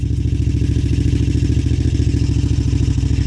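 A 1981 Moto Guzzi Le Mans Mark 2 motorcycle idles loud and close with the choke slightly on, its engine running in a steady, rapid, even thumping beat with no talk.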